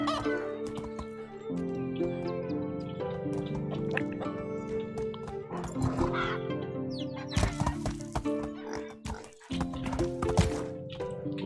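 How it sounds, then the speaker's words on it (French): Horse hooves clip-clop in the medieval farming video game Medieval Dynasty, amid busy game audio with clucking chickens and other village animal sounds, with no one talking. "J'ai vraiment du mal à utiliser le cheval."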